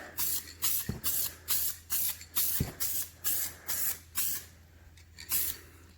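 Spray paint hisses from an aerosol can onto Ford F150 fender flares in about eleven short, even bursts, each roughly a third of a second, close and steady with brief pauses between, plus two faint clicks.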